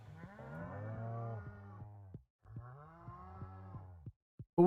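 Two long cow moos from a farming video game, each a rising-then-falling drawn-out low call, close and clear, separated by a brief silence and followed by a few soft clicks.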